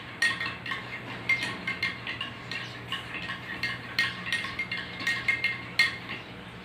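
A spoon stirs indicator solution in a glass, clinking against the sides in a quick irregular series of close, bright taps with no talking.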